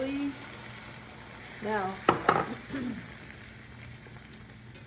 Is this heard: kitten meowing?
no